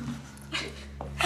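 A fox cries at night in a horror film scene, a few short whimpering yelps and whines spaced across a low steady hum, fairly close.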